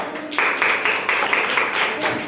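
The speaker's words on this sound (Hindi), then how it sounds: "ताली बजाओ" Schoolchildren in a classroom clap their hands together in a quick, steady rhythm of sharp, evenly spaced claps for a short burst, with faint voices in the background.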